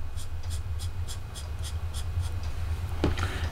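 Pencil drawing on a card, shading a dark smoky slate area with quick rhythmic scratchy strokes, about ten in a row, followed by a brief sharper scrape near the end, close and clear over a low background hum.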